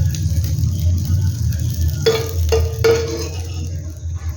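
Pancakes frying in a pan, a soft steady sizzle with a low background hum, then three sharp clinks of a utensil against the pan in quick succession near the end.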